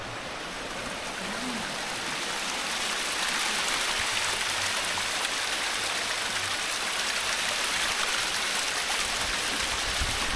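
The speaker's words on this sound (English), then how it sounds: "that's the cleanest water I've ever seen running down the side of a mountain" A mountainside stream in Wales pours steadily, a dense continuous rush of running water, close and loud, growing slightly fuller after the first few seconds with no talk.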